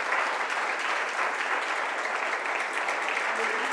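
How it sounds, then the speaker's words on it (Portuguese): Church congregation applauding during a worship service, a steady, dense patter of many hands clapping together that holds evenly throughout without talk. "Dê uma salva de palmas para o Senhor."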